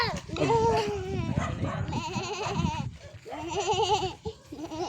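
Several wavering goat bleats, close and loud, overlap with people talking nearby in an outdoor setting.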